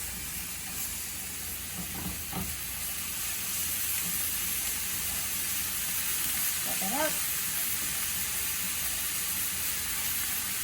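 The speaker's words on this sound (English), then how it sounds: "I'm going to get that stirred around, get everything coated" Ingredients sizzle in hot oil in a pan while being stirred, a constant close hiss with two brief murmurs of a voice over it.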